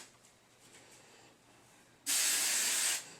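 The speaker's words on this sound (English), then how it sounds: "you want to focus most of the hairspray on the roots" After a quiet moment, a single short burst of hairspray hisses loudly and close up as it is aimed at the roots of the hair.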